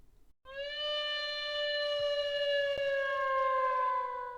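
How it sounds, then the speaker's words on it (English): Zam Wesel's airspeeder from Star Wars flies by as a steady, whining tonal hum that slides slightly downward for about four seconds, fairly quiet, with no talking. "Oh, that's the sound of her airspeeder."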